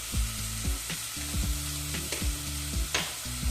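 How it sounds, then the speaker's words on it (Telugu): Cumin seeds sizzling in hot oil in a pan for a baby potato curry, a steady close crackle with a few sharper pops and a low tonal hum beneath, no voices. "దీంట్లోని కొంచెం జీలకర్ర వేసుకుందామండి"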